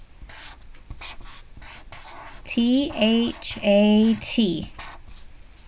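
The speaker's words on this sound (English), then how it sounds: "I'm going to write the word fan. I'm also going to write the word" Marker strokes squeak and scratch on a writing surface as a word is written out in green, brief bursts of scraping heard between and under a woman's speech.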